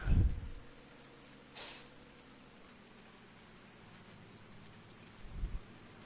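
Rain in the Farming Simulator 19 video game, set in central Illinois: a steady soft hiss of rainfall, with a brief low rumble at the start and another dull rumble near the end.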